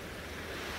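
Ocean waves wash onto a beach on a calm morning, a steady, soft surf roar with no distinct breaks, faint and continuous throughout.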